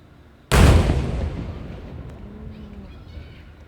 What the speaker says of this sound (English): the delay on the audio gives you an idea of how far away the firework was